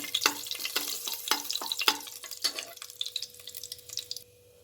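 Bay leaves, cinnamon and cloves fry in hot oil in a pan as the spice base for veg biryani. A crackling sizzle runs under rhythmic scraping stir strokes, then drops to a faint hiss at the end.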